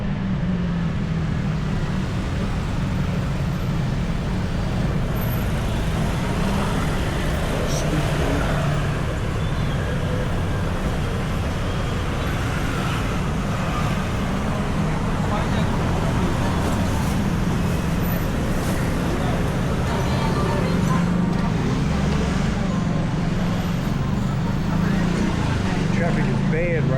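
Road traffic in Bangkok keeps up a dense, continuous rumble, with cars and buses idling and passing close by. The low drone stays steady throughout, and voices can be heard over it.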